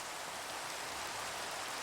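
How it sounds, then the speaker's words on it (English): Steady daytime rain falling in a Minecraft-style island survival game, a dense even hiss of drops with no breaks and no voices. "Just like this rain in the middle of the freaking day is ridiculous."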